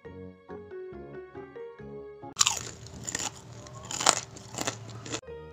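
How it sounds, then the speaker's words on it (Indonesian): Crunchy bites into a crisp, curly-battered fried banana fritter, several loud crackling crunches following a few quiet tones, close and sharp with no talking. "Tekstur tepungnya beneran crispy, renyah, kriuk-kriuk,"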